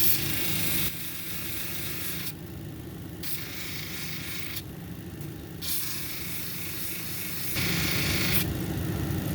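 A lapidary grinding wheel shapes a Mexican red lace agate cabochon, giving a steady, close hissing whir with a few brief gaps where the stone is lifted away.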